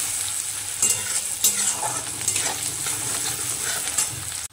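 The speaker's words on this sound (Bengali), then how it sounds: "এবার শুকনো লঙ্কা, জিরের ফোড়নটা দিয়ে দিলাম, রসুন আর পেঁয়াজ ফোড়ন দিয়ে দিলাম।" Dried red chilli, cumin, garlic and onion spit and sizzle in hot oil as a tempering for masala dal. A loud, close crackle carries throughout, with brief bursts of stirring and a sudden cut-off at the end.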